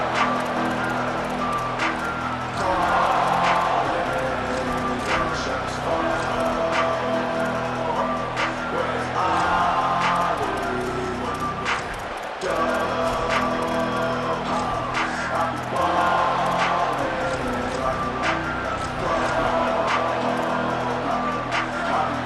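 A stadium crowd at a college football video game roars steadily and continuously for the whole stretch, a dense wash of voices that swells now and then.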